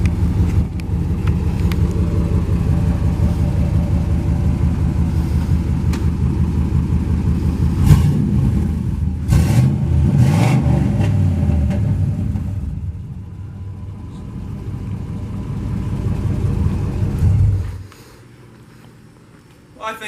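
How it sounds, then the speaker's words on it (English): A car engine with its exhaust fallen off, with a deep grumbling rumble that swells as the throttle is blipped several times, then cuts off near the end; close and loud. "I'll give it a little gas and see what she sounds like."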